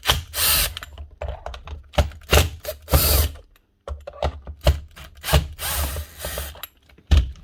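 Short, loud whirring bursts from a power driver undoing tight screws on the housing of a Makita RP0900 router, stopping and starting irregularly with scraping and rattling in between.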